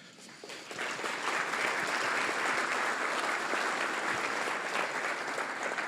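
An event audience at a Kent gathering on accessibility and universal design breaks into sustained applause, building quickly to a steady, dense clapping that continues for several seconds.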